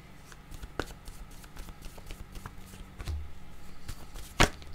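Playing cards being shuffled and handled close by, a run of soft riffling flicks and taps with one sharp snap near the end, no talking.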